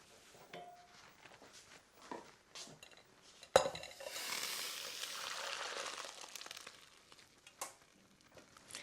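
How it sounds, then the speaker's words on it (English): A metallic clank of a pot, then a rush of water pouring and draining for a few seconds as boiled rice is drained, with light clinks of cookware around it. "it's ready to remove from the heat and drain"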